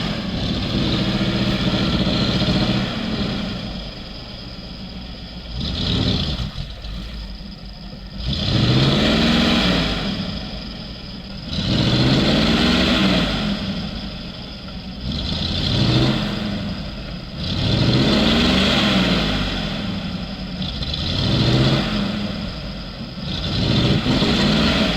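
Off-road trucks, a GAZ-66 and a ZIL-4975, struggle over rough terrain, engines revving loudly in repeated surges that rise and fall every few seconds, close by and dominating with no talk.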